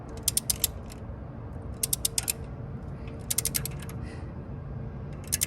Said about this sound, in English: double torque, double click